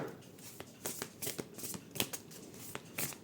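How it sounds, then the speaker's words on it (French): A Body Boost Challenge card is drawn from a deck, giving a quick series of soft papery flicks and rustles as the cards are handled, close and quiet with no talking. "Je vais tirer la carte Body Boost Challenge."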